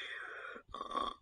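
A person imitates snoring with two breathy, wheezing snore sounds, one long inhale followed by a rougher exhale, close and fairly quiet.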